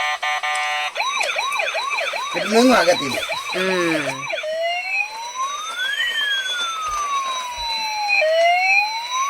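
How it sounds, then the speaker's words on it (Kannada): Battery-powered toy ambulance in a wholesale toy market in Bangalore, wailing through loud electronic siren patterns and a tinkling music tune, close by, with someone speaking briefly partway through. "Ambulance with music."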